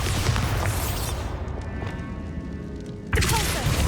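Bombarda explosive spell blast in Hogwarts Legacy: a loud crackling burst that decays into a ringing tail, then a second sharp blast hits near the end.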